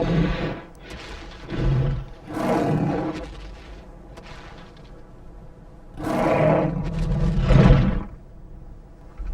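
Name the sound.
dinosaur roar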